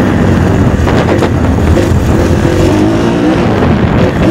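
A 2015 Kawasaki KX-F 450 motocross bike revving and pulling hard in gear, a loud, continuous engine roar close to the rider with heavy wind noise.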